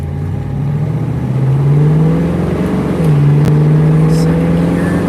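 A Ford Mustang accelerating hard from a green light, engine note climbing through first into second gear with a brief dip at each shift, loud and close.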